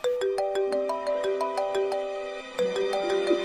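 A phone ringtone plays a bright, plucked melodic tune of quick repeated notes, loud and close, with no talking over it.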